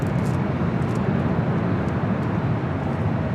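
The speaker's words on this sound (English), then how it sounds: "I think we're good to go for this A350 north side takeoff" An Airbus A350 takes off from the north side at LAX, a loud, sustained broadband jet roar that holds steady and close throughout.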